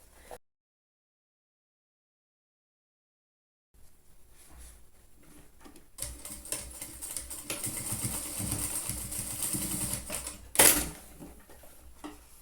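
A sewing machine runs a 1 cm seam along a zipper and lining on a trapezoid pencil case, starting after a silent pause and then whirring with rapid needle clatter, ending in a sharp loud clack.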